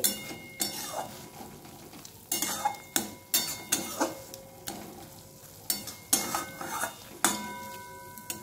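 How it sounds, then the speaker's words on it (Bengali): A spatula stirs thankuni leaf curry in a pan, scraping in a steady rhythm of short metallic strokes over a faint sizzle, close and alone. "তাই এইভাবে একটু মিশিয়ে নিচ্ছি ভালো করে, আর একটু শুকনো হতে দিচ্ছি"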